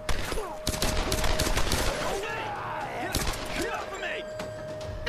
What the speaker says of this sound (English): Who is shooting at someone?